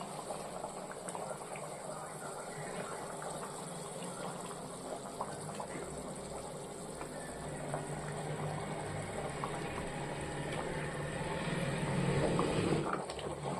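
A pot of whole rock fish curry bubbling on the stove under a lid, a steady close simmering and popping that swells slightly louder toward the end, with no voices.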